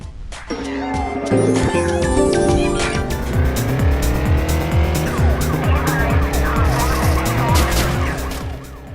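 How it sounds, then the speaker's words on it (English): In the endless-runner racing video game Redline Rush, loud car engines roar continuously while repeated tire squeals and skids cut in, along with rapid revving shifts. "Redline Rush is a racing game as an endless runner"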